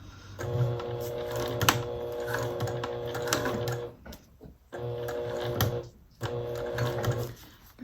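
A sewing machine stitches a piping seam in a steady, close, droning whir that pauses briefly twice before running on again, with no talk.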